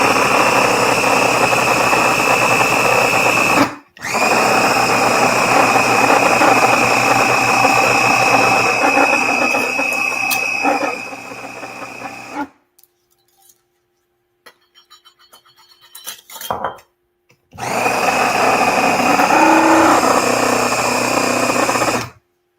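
A blender whirs loudly while mixing avocado chocolate mousse. It runs close and steady with a brief stop, cuts out for a quiet stretch with light clatter, then runs hard again.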